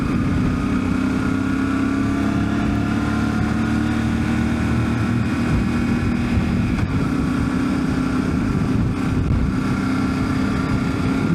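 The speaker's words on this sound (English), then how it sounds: "A bit of crosswind here today. Doing about 45 miles an hour." Steady, loud wind roar over a helmet while a Yamaha Tenere rides at about 45 mph in a crosswind, the engine hum constant underneath.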